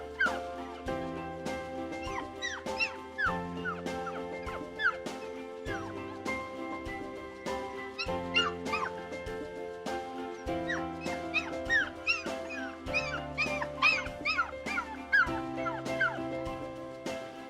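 A puppy yips and whimpers in short high bursts over a steady musical backing with regular beats.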